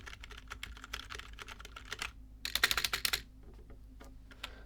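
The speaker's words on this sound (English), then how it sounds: "because this is a membrane keyboard." Fingers type on a membrane computer keyboard, a soft, close patter of keystrokes that speeds into a quick dense burst before slowing to a few scattered taps.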